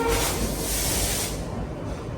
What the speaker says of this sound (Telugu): షంటింగ్ లోకోస్